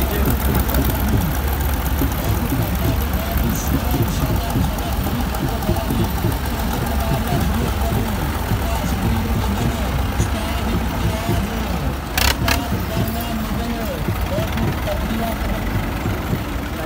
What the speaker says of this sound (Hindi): ट्रैक्टर सारे आ रहे हैं मैदान के